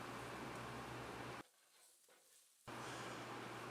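Steady broadband sizzling of onions frying in a pan, loud and continuous, cutting out briefly for about a second before resuming.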